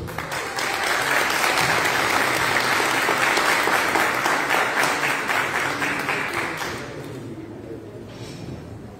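An audience at a public ceremony breaks into sustained, dense applause, loud and even for several seconds before thinning and fading toward the end.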